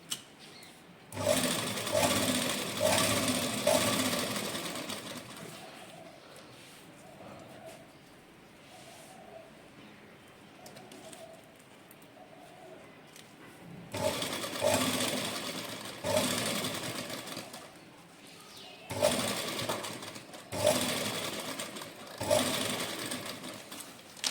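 A sewing machine stitches wide beaded lace onto a dupatta, running in several loud bursts with quieter pauses between them.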